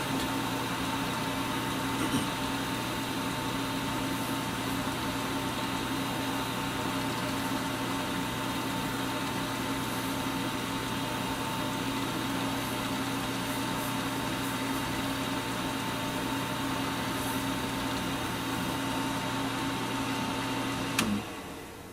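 Steady whine and hum of a lathe spinning an acrylic blank while leftover rubbing compound is wiped off during polishing, continuous and loud for the whole stretch, cutting off abruptly near the end.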